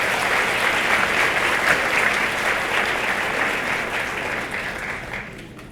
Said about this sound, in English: So I'd like you to give them a round of applause.